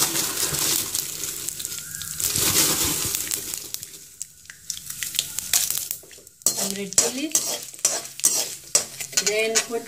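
Two red chilies sizzle in hot oil in a pan while a utensil stirs and scrapes them. The crackle is loud at first, then thins out into quieter sizzling and intermittent scraping clinks.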